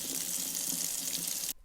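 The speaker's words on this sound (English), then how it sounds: "Now I'm going to run it under cold water." Cold tap water runs steadily over the bottom chamber of a moka pot, a continuous close hiss of flowing water that cuts off abruptly just before the end.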